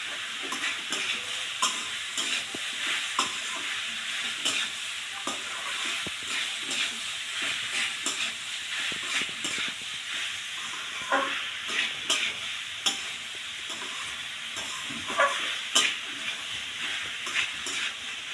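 Bottle gourd curry with turmeric and salt being stirred in a hot pan, a continuous close sizzle with repeated scraping stirs and occasional louder clatters of the spoon, no talking.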